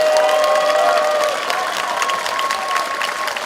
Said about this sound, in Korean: 이 장소가 떠나갈 정도로 커다란 박수 함성 부탁드리면 어떨까요?